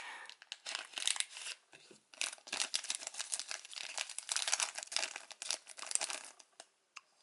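A foil Power Rangers trading card pack is torn open and crinkled close up, with bursts of sharp crackling and tearing in an irregular rhythm.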